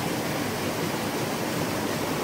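Fast-running stream water at Manoa Falls, a steady close hiss and rush of rippling current with no breaks and no voices.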